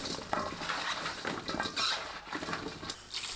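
Cut radish is tossed with sea salt and sugar in a bowl, giving soft, irregular patters and light scraping and clinking like utensils against a dish, close and moderately quiet with no talk.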